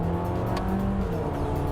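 A 2015 MINI Cooper S Coupe accelerating on a side road, engine humming loud and steady with a faint rising tone, heard briefly from inside the car.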